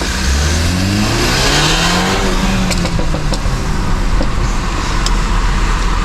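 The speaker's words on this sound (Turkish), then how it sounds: "bir gazı verdik o arada" A BMW F30 328i engine revs hard as the car accelerates, with the pitch climbing and shifting through gears. It is loud and close, with steady road and wind noise underneath throughout.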